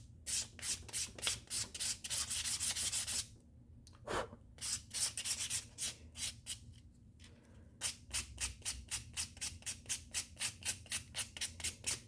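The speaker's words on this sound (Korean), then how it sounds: "사포는 400방 정도, 그 정도 사용하면 되십니다." Rhythmic scratchy strokes of 400-grit sandpaper sanding leather during bag restoration, quick back-and-forth bursts with a short pause midway, close and fairly loud.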